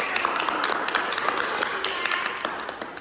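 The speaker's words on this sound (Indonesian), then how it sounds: "Tepuk tangan." Students in a classroom applaud, a burst of many quick, crisp claps from a group, moderately close, running steadily for a few seconds with faint voices underneath.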